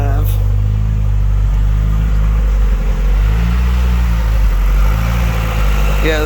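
An old car's engine idles on aged E85 fuel, a loud, close, steady low rumble with a slight uneven lope, while someone talks over it.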